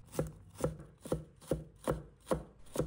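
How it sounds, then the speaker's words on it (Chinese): A knife chops a piece of carrot into small dice on a cutting board, producing seven evenly spaced, crisp, close chops in a steady rhythm with no talking. "先把它切成片，再切成丝。 然后切成小粒"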